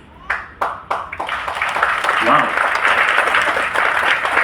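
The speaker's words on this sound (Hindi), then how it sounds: "आपकी तालियां देखकर पता चला कुछ बोलने की जरूरत नहीं है।" An audience at a Modicare business seminar held on a cruise breaks into applause. A few separate early claps quickly build into loud, steady clapping, and a voice briefly exclaims near the start.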